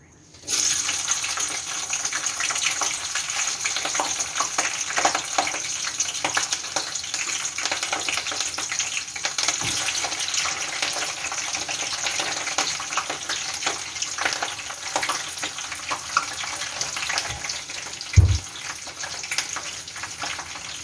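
Steady sizzling and crackling of cubed eggplant frying in hot oil, continuous and close, with a clunk of a utensil near the end.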